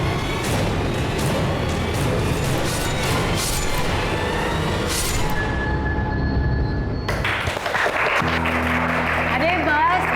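Dense applause from a crowd fills the opening seconds, then cuts off abruptly to quieter room sound with a voice speaking.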